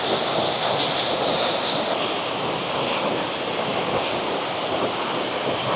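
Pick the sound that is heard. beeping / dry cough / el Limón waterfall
el Limón waterfall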